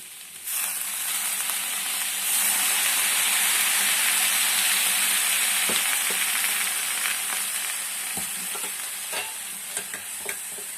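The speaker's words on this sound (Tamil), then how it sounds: "இப்போ கொஞ்சம் கொஞ்சமாக தண்ணி தெளிச்சுக்கலாம்" Water is sprinkled a little at a time onto agathi spinach stir-frying in a pan over a medium flame, giving a loud, continuous sizzle and hiss with occasional soft stirring knocks.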